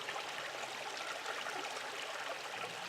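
A cold, rocky creek flows steadily on a shady slope, a continuous broadband rush of water with no pauses, heard close and alone.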